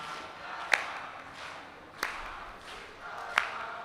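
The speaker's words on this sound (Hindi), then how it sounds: "ताली की ध्वनि को सुनने की सावधानी भी रखनी है कि आप ताली बजा रहे हो" Three slow, evenly spaced hand claps sound from a gathered crowd during a kirtan at Parmarth Niketan, Rishikesh, each a soft sharp crack over a quiet room murmur.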